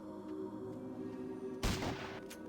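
Shotgun fire in the Fallout Tactics video game comes as a single short, loud blast partway through, over a steady low game drone with a faint tonal hum.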